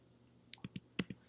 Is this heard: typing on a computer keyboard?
yes